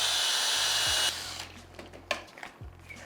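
A drill-driven paint mixer whirs loudly while stirring grain mash for a Vienna lager, cuts off after about a second, and is followed by wet sloshing and clunks.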